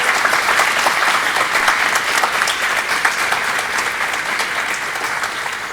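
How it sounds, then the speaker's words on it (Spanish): Secondary school students at a music master class applaud a teacher, producing a continuous, even burst of loud clapping with no voices on top. "Le damos un aplauso al maestro."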